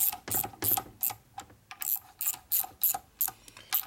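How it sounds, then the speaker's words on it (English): A hand ratchet tightens the oil pump housing bolts on a 1942 Harley-Davidson WL 45 cubic inch flathead side-valve engine, sounding as a quick run of about eleven sharp, close clicking bursts in an even rhythm with no voices. "then I go ahead and tighten these bolts on right now"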